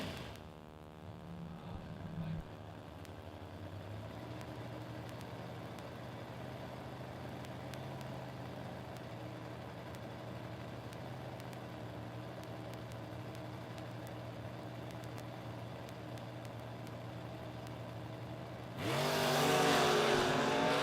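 Chevrolet Camaro and Chevrolet Nova drag racing side by side at a drag strip, a steady distant engine drone holding for most of the run before a louder, harsher roar surges in near the end.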